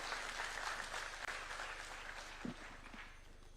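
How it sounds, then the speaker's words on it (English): A crowd applauds with steady, dense clapping from a sizeable audience, heard from a distance and fairly faint. "Let's welcome him with a clap, please."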